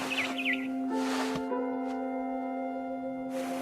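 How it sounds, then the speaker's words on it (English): Bird chirps from a barn swallow outside a window in a video game, a few short tweets early on over a steady game music drone with tonal hum lines, no talk. "Then I heard chirping outside my window. It was a barn swallow going back to her nest."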